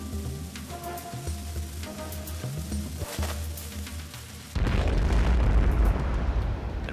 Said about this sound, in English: The resulting explosion signaled a furious 6-hour Ottoman assault.